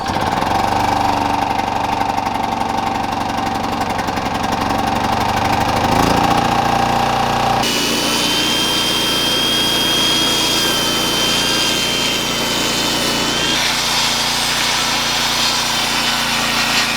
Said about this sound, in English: we're taking these 2x4s and cutting them in half long ways